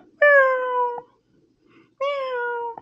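A pet cat meowing indoors in a house, two clear, drawn-out meows about a second each separated by a short pause, close and loud in a quiet room.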